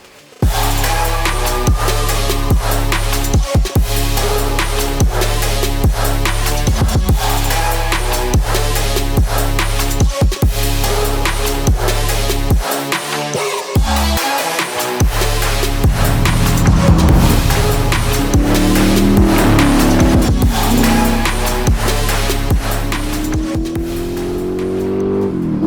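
A 1965 Shelby Cobra with a Roush engine drives hard, its loud V8 roaring and revving through repeated gear changes, with brief lifts and surges of acceleration, close and continuous.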